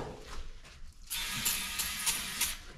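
An aerosol can of brake cleaner sprays in a long hissing stream with a few pulsing bursts, close and fairly loud after a second of quiet rustling.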